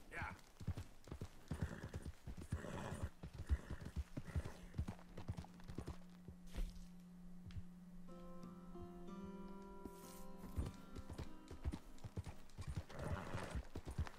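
Horse hooves clip-clop in a steady walking rhythm in Red Dead Redemption II, close and clear, with a brief whinny and some talking mixed in.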